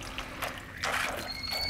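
A garden hose sprays at high volume through the foam air filter of a Generac inverter generator, making irregular splashing bursts and trickles, close and moderately loud, with a faint tonal whine near the end.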